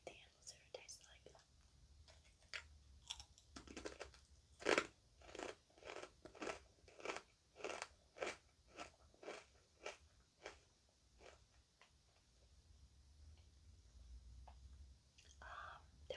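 Thin popped vegan chips crunched and chewed close to the mic, a rapid series of about a dozen sharp crisp bites and chews at a steady rhythm, with soft whispering before and after.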